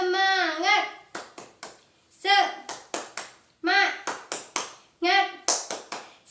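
Children clap a rhythmic classroom "tepuk semangat" cheer: four rounds of chanted voices, each followed by a quick series of sharp claps, led by a teacher in an Indonesian primary-school morning greeting.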